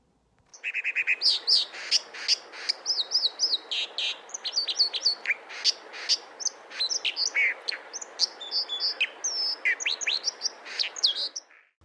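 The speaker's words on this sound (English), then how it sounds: "this is a little extract of dipper song" A dipper sings a long, rapid stream of high, scratchy warbles and sharp trills, clear and close, with no other sounds around it.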